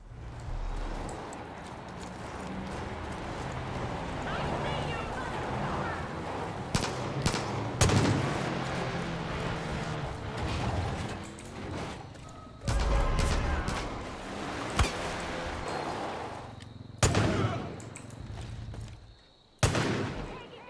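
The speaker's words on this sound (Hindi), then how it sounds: "ये गन है बहुत सेक्सी, इससे जो गोली निकल रही है ना एकदम ताबड़तोड़ तरीके से।" Rapid gunfire from a gun in the video game Far Cry 5 rattles in dense, sustained bursts, with sharper single cracks and louder blasts near the end.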